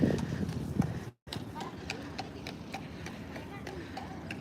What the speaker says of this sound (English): The sound of his hooves is like very relaxing.